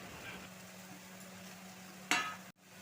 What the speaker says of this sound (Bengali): চিচিঙ্গেটা দিয়ে ভালো করে আলু পেঁয়াজের সঙ্গে মিশিয়ে নিচ্ছি।